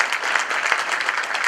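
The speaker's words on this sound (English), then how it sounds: "Give him a round of applause, everybody." Gala audience applauds warmly for a Hoboken council president, dense continuous clapping close and loud throughout.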